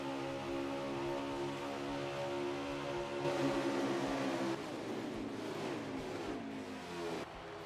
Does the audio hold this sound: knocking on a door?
no